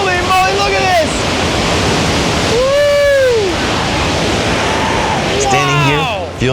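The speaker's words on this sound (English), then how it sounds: "hearing the raw power of this roaring waterfall in Ouray" Roaring waterfall in Ouray, Colorado, a loud steady broadband rush filling the scene, with excited voices exclaiming over it.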